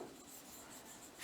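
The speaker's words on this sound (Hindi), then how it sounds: "फिनोटाइप रेशियो लिखता हूं मैं" Writing on a board during a biology lesson, a soft, steady scratching and rubbing stroke lasting about a second, faint and close, with no talking.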